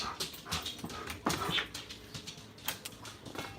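A dog whimpers and whines in short, uneven bursts at close range indoors, with soft yips and rustling movement between the cries.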